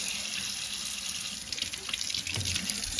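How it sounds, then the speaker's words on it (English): Dirty hands get washed under a running kitchen faucet, a steady close splashing hiss of tap water with faint scrubbing and splatter shifts, no voices. "See how my hand's all dirty? This is all dirty. So then I'm gonna have to wash it"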